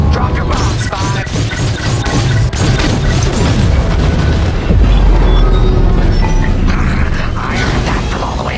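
A core explosion in the Star Wars Squadrons space-combat video game: a loud, sustained rumbling blast with crashing debris and rising boom around the middle, dense and continuous throughout.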